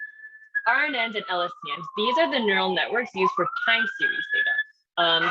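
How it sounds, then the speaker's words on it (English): Police sirens wail outside, steady and then gliding down and back up in pitch, heard faintly under a man lecturing close by. "Sorry about the sirens, by the way."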